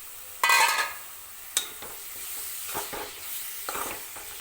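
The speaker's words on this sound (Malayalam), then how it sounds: "ഇനി നമുക്കതിലേക്ക് വേവിച്ച് വെച്ചിരിക്കുന്ന കക്ക ഇറച്ചി ഇട്ട് കൊടുക്കാം" Cooked clam meat tipped into a sizzling masala roast in a pan, with a burst of frying at the start, a sharp clank of a spoon, then a low steady sizzle and soft stirring scrapes.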